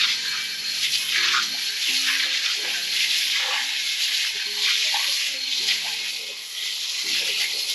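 Water sprays steadily, rinsing a 1990s billet aluminum Centerline Convo Pro 15x10 wheel after acid etching. The hiss is continuous and moderately close, with faint low tonal sounds underneath.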